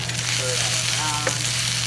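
Garlic sizzles steadily in a hot pan while being stirred around, a dense continuous crackle close by with a faint scrape of the spoon and a low background hum.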